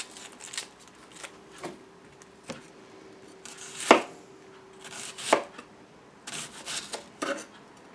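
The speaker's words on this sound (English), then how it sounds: "We're going to cut them up in very thin slices" Knife chopping sweet Vidalia onions into very thin slices on a board, a series of sharp, irregular cuts with short pauses between them, close and fairly quiet, with no talking.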